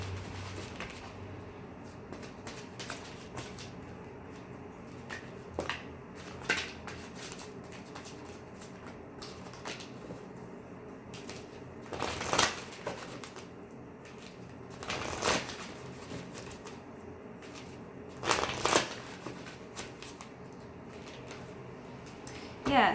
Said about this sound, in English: I just want to reshuffle the romance angels